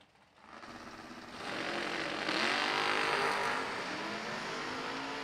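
A Ford Mustang and a Chevrolet Corvette launch off the line at a drag strip, engines surging from idle into a loud, sustained roar that builds and holds, rough and powerful with no voices over it.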